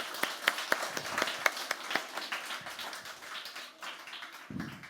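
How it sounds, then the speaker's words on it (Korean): Scattered hand claps from a church congregation at an Easter Sunday service in Yangsan, Korea, sparse and uneven rather than a full ovation, with a low rumble near the end. "우리 영광의 박수로 주님 앞에 올려드립니다"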